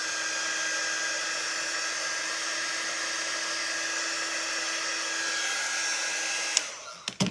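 A hair dryer blows steadily at close range, drying paint on a silk-screen stencil, a constant whine running unbroken for several seconds before cutting off, followed by a few brief knocks.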